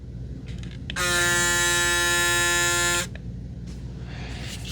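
A Braun Series 9 Pro+ electric shaver head runs for about two seconds with a steady, loud, buzzing electric hum, starting and stopping abruptly against quiet room noise.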